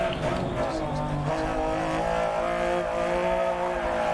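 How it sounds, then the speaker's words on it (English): A rally car engine in the game DiRT Rally 2.0 drones steadily at close range with a tire skid on a corner, under faint background voices. "as they hear the sound of this car coming around the corner."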